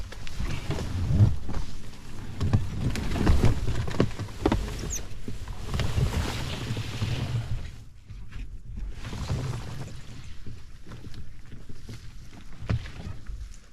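An origami canoe paddles through lily pads on a remote pond: steady watery swishes and soft patter from the paddle and hull, with a quieter stretch near the end and no talking.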